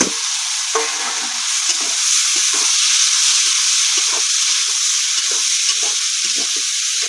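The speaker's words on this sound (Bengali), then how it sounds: "দিয়ে দেবো কুচনো পেঁয়াজ 1 চামচ।" Chopped onion with sugar and Kashmiri chilli powder sizzling steadily in hot oil in a pan, a constant loud hiss broken by repeated scraping stirs.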